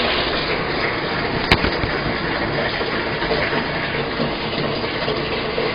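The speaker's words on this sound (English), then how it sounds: "We're just waiting for this bucket to fill up here" Water pouring into a bucket to fill a portable washing machine, a steady loud gushing rush from a tap or hose that continues unbroken, with one brief clack partway through.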